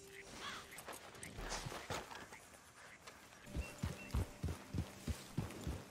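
Hooves of a thoroughbred horse in Red Dead Redemption 2 clip-clop in a steady rhythm, becoming louder and clearer in the second half over faint background ambience.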